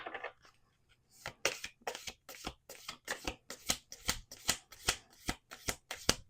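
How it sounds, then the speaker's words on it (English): Oracle cards are shuffled by hand close up, a series of crisp riffling bursts in a steady rhythm, about a dozen in quick succession. "if it takes me 5 minutes to shuffle out 8 or 10 cards"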